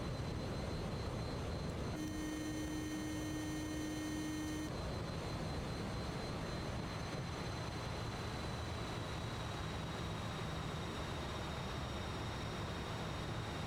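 A JustFlight Fokker F28 jetliner climbing in Microsoft Flight Simulator, its jet engines producing a constant, dense roar throughout, with a steady electronic tone sounding for a couple of seconds near the start.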